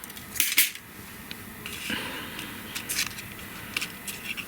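Scissors trim a paper die-cut in short bursts of crisp snipping and rustling, close to the microphone, separated by quieter pauses.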